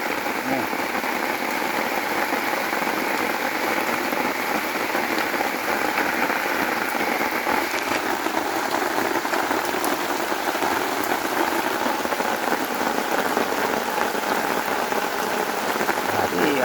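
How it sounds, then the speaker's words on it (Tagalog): Steady rain pattering on a surface on a farm during coconut-shell charcoal making, dense and continuous, with a low engine-like hum beneath and no clear pauses. "Araw-araw ulan dito sa amin."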